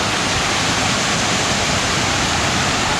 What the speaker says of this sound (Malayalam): രാവിലെ തന്നെ നല്ല ഹൈറ്റുള്ള ഒരു വെള്ളച്ചാട്ടം കണ്ട് നിൽക്കുകയാണ്